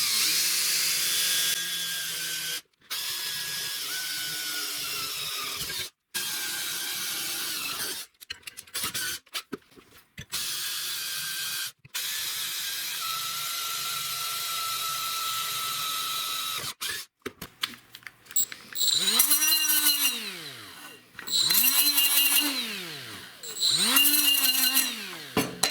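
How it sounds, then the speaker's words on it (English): A power drill fitted with a 1/4-inch bit bores into a snowblower part in a series of whining bursts separated by short pauses, then rises and falls through several slower, heavier passes as it cuts through the metal. "I'm using a 1/4-inch drill bit for this."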